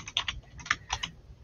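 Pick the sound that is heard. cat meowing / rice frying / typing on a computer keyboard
typing on a computer keyboard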